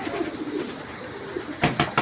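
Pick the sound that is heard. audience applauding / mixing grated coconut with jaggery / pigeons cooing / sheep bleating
pigeons cooing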